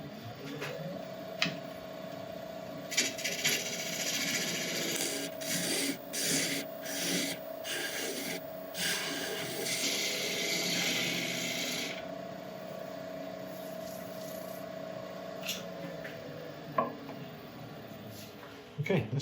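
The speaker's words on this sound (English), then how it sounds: "we're going to turn away this, get it flat to the base," Wood being turned flat to the base on a woodturning lathe: a steady scraping, rasping cut running continuously for about twenty seconds, with brief breaks and a steady mechanical hum underneath, fairly close and moderately loud.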